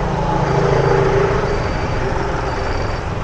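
Steady road traffic in Baguio City, heard from a bicycle: a broad, continuous rumble of engines from trucks, buses and cars passing close by, with no voices.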